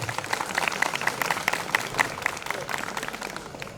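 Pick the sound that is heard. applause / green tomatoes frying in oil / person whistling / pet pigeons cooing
applause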